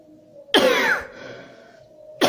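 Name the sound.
coughing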